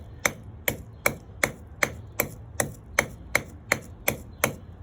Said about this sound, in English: So you keep it in the bag and you just hammer it like that until you get it to a little bit of a powder.